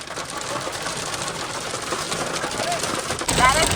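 Heavy hail pelts a car during a fierce storm, a dense, steady rattle of rapid hits on the body that swells louder near the end, with voices present.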